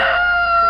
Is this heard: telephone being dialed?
no